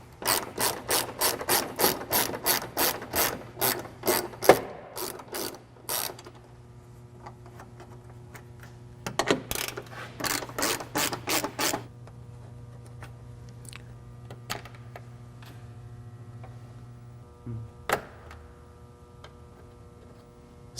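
A ratchet works on 10mm grille bolts of a 2018-or-later Toyota Tacoma, clicking in rapid close bursts separated by pauses, with a low steady hum under part of it.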